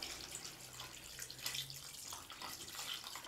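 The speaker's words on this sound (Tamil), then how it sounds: "நம்ம வேக வச்ச தண்ணி வந்து 2 கப்பு சேர்த்துருக்கோம்" Cooked water from boiling country chicken being poured into a pot of basmati rice for nattu kozhi biryani, a steady close splashing pour running continuously for a few seconds with no talk.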